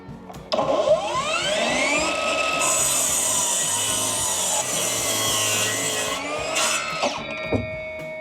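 A ProCraft PGS 20 cordless miter saw spins up and cuts through a 50 mm wooden board, a loud sustained whine and grinding rasp lasting several seconds before the motor winds down.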